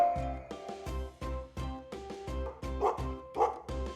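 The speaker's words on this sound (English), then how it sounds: "meet our loyal farm guardian, dog." A farm dog barks in a steady rhythm, about eight sharp, evenly spaced woofs over a few seconds, loud and close, with no talk.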